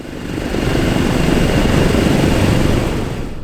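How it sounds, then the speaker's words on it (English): A Douglas DC-6 piston engine runs during a ground run at annual inspection, a loud, dense, steady roar with a throbbing propeller beat close by and no voices. "The engine is running."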